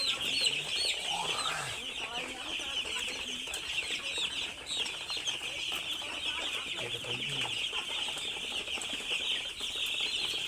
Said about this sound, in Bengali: আপনাদের দেখায় মুরগিটা